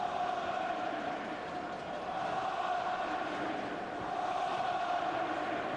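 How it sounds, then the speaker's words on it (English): A stadium crowd roars at Oliver Kahn's farewell match for Bayern Munich against Germany, a dense, sustained wall of distant cheering that swells slightly near the end, with a commentator's voice faintly over it. "He will still be able to hear the crowd."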